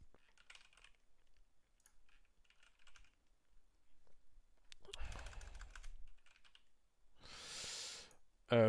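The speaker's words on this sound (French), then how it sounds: "je sais ce qu'on va faire si j'arrive à taper sur mon clavier" Typing on a computer keyboard set to a QWERTY layout, with soft, sparse key clicks through the first part, then a louder burst of clattering keystrokes, in a quiet room.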